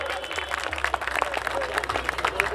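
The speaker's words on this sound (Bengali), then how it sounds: "একটু সবাই মিলে জোরে হাততালি।" A crowd claps at the prize ceremony of the Sukanta Cup 2020 village cricket tournament final. The applause is dense and steady throughout, with faint voices mixed underneath.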